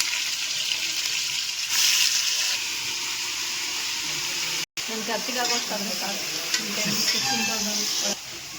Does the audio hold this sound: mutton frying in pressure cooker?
yes